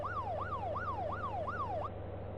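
A vehicle siren in the video game VEIN wails in a rapid, repeating rise-and-fall pattern about four times, then cuts off abruptly, over a low engine hum.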